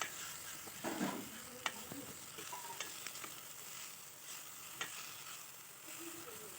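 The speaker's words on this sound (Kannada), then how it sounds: "ಆಮೇಲೆ ಇದನ್ನು ಆ್ಯಡ್ ಮಾಡಿ ಚೆನ್ನಾಗಿ ಮಿಕ್ಸ್ ಮಾಡಬೇಕು." Chopped honagone greens being stirred in a frying pan, a steady low sizzle with soft scraping and a few faint spatula taps, close and quiet, with no talking.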